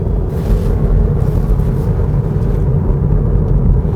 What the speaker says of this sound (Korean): 이 타이어 구르는 소리가 좀 크게 느껴지는 그런 측면이 있습니다